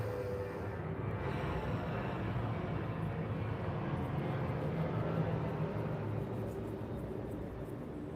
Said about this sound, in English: we have another plane going overhead